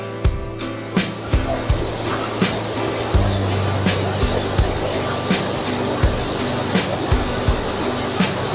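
Thoseghar waterfall near Satara gives off a steady, broad roaring wash of falling water, continuous and loud throughout, with faint periodic thumps and rumbles underneath.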